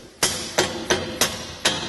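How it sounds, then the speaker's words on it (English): A rubber mallet taps a swing arm end cap into place on a Jeep XJ rear bumper and tire carrier: five sharp, close knocks at a steady, slightly uneven pace. "Take a rubber mallet or a hammer and a piece of wood and go ahead and tap this in place."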